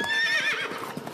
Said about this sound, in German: das ist Roter Mond, das Pferd von Wirbelwind